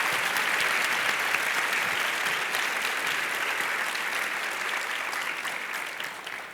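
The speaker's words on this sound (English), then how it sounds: "So please join me in a round of applause for my colleagues." Sustained audience applause at a professional conference session honoring presenters, a dense steady wash of many hands clapping that holds strong before tapering slightly at the end.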